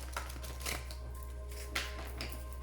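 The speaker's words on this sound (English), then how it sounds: "as I shuffle the cards" Oracle cards are shuffled quietly, with soft papery riffles coming in a few brief bursts over a low, steady hum.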